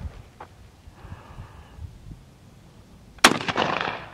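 A single loud gunshot fired at a pumpkin outdoors, a sharp close crack followed by a short decaying rumble, after several seconds of quiet ambient shuffling.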